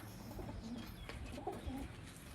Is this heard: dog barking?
no